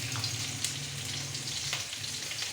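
Milkfish sizzles in a frying pan with tomato nearby, a steady close crackle of hot oil with small pops throughout, no talking.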